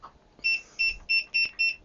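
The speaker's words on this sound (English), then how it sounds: "It has a beep" Five short electronic beeps from an iTECH IT6922A programmable power supply repeat in a quick, even rhythm, each a clear high tone, close and moderately loud against a quiet background.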